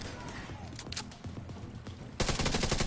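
Bursts of gunfire ring out in The Division 2 against armored enemies at the Capitol Building: scattered sharp shots and rapid automatic volleys, ending in a dense, loud stretch of continuous firing, with a voice talking at times.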